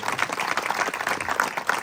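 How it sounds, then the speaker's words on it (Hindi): A seated audience at a natural farming gathering gives a short burst of steady, fairly dense clapping. "एक बार जोरदार तालियां इनके लिए भी बजा दो"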